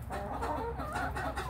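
A rooster clucks several times in quick, throaty bursts, close and moderately loud, with no talking.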